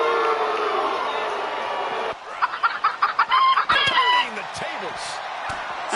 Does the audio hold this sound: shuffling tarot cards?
no